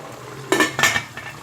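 A utensil stirs an aubergine sauté with soy sauce in a pan, giving two or three close metallic scrapes and clinks over a faint background hum.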